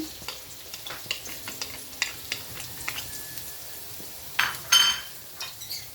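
Garlic sizzling in a frying pan for arroz valenciana, a close, continuous crackle broken by repeated stirring strokes and sharp clinks of a spatula against the pan.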